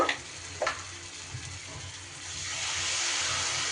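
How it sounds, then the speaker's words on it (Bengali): Ginger and green chilli paste fries in hot oil, a soft steady sizzle that swells toward the end, with a few brief stirring scrapes near the start. "আদা আর লঙ্কা বাটাটা একটু নেড়ে চেড়ে"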